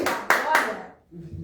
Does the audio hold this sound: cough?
no